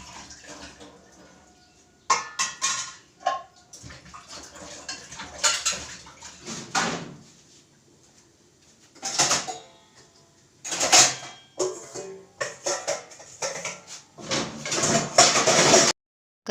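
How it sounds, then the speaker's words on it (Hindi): Freshly washed metal kitchen utensils and pots being put away in a home kitchen: close, irregular clinks and clattering bursts separated by quiet gaps, growing busier toward the end. "इसीलिए बर्तन सरिया दे रही हूँ"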